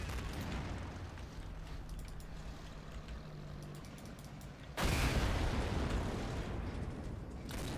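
A dense wash of battle noise from the WWII strategy game Men of War. It is a constant rumble with faint engine drone, and then a sudden, loud, broad blast from an artillery gun swells the noise and holds it there.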